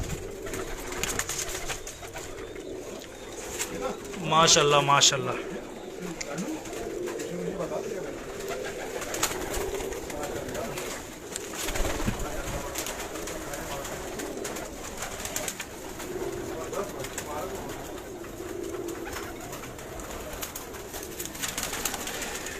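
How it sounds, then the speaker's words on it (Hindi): Pigeons of many breeds, including Karachi high-flyers, coo on a rooftop in a steady low murmur, while someone speaks in short bursts over them and other voices drift in from nearby. "हर नस्ल का माशाल्लाह कबूतर इस छत पे मौजूद है।"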